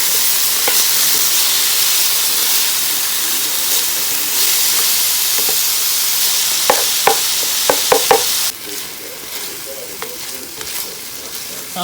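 Empanada picadillo filling with chopped cilantro cooks down in a pan with a loud, close, steady sizzle and hiss, scattered spoon taps and stirring scrapes, and a sudden drop in intensity near the end.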